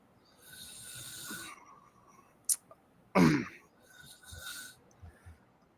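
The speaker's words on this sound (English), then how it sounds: "Oh, sorry, I need to clear my throat." A short, harsh throat clearing bursts out once, surrounded by faint breathing and quiet rustling.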